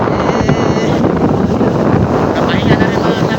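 At sea aboard a small boat, strong gusts batter the microphone over the wash of heavy waves, a loud continuous roar with no pauses.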